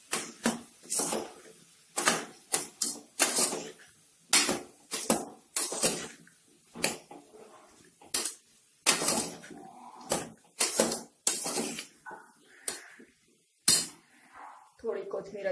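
A metal spoon scrapes and clinks against a pan while vegetables are stirred together with salt, giving repeated close, sharp clatters in an uneven rhythm with brief pauses between strokes.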